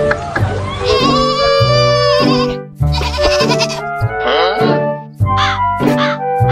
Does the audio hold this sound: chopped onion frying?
no